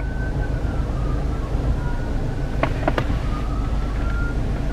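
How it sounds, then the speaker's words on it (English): An ambulance siren passes by in the distance outside, its wail faint and steady beneath a constant low rumble of background noise, with a few brief sharper tones in the middle. "There go an ambulance."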